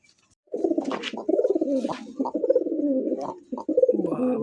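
Domestic pigeons coo in a continuous, near chorus of low throaty calls, several birds overlapping with brief pauses between bursts.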